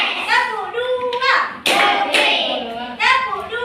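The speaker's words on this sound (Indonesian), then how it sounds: "Tepuk satu. Tepuk satu. Tepuk dua." A class of children claps hands in a counted rhythm, with a few sharp, close claps mixed among loud chanting voices.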